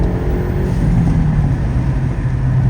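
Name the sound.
Hyundai Elantra N stage 2 accelerating hard through the gears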